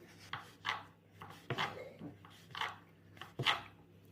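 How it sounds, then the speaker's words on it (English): Cheese grated by hand over a grater in a home kitchen, with several separate rasping strokes in an uneven rhythm, close and fairly quiet against a low background hum. "I'm grating my cheese"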